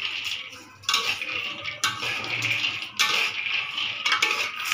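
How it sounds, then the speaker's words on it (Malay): Metal spatula scraping and clattering against a wok in repeated bursts, stirring dry, rattly peanuts, close up with no talk. "Kacang ni kena sentiasa kacau."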